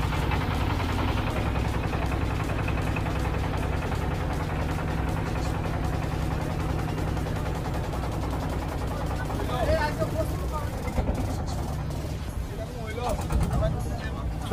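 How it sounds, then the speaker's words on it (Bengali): A motorboat's engine runs close by with a steady rattling drone on a boat trip, while people chatter and call out over it. "স্টার্ট হয়ে গেল আমাদের নৌকা"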